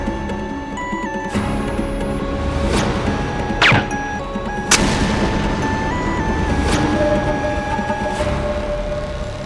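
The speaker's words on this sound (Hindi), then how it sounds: "क्या ये पटाखा किसने फोड़ा?" Firecrackers bursting in a home courtyard, several sharp cracks and bangs spaced a second or two apart over a steady background din, fairly loud and close.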